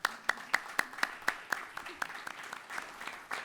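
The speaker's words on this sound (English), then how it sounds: "Let's give her a round of applause." Applause at a Birmingham city council meeting: a run of sharp, evenly spaced claps close by, steady at first and then thinning into looser, fainter clapping.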